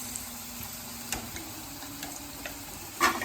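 Onions frying in a pan during a vegetable curry, a soft steady sizzle with faint stirring clicks and a brief louder scrape near the end, heard close up with no talking.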